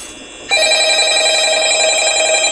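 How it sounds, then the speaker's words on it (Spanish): A telephone in the video game Five Nights at Freddy's starts ringing after a quiet moment, a loud, steady electronic bell tone that continues unbroken to the end. "Está sonando el teléfono."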